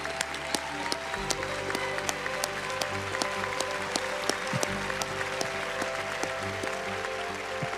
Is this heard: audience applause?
yes